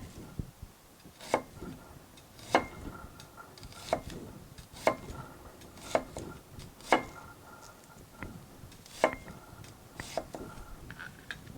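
A knife makes quarter-inch vertical slices through an onion on a cutting board while an Italian salad is prepared: about ten crisp, evenly spaced taps roughly a second apart, close and fairly quiet, with no talking.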